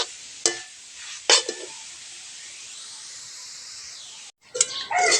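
Coconut naru mixture being stirred in a pan, giving soft scraping and a faint sizzling hiss with a few sharper spoon-against-pan knocks, close and quiet, with no talking.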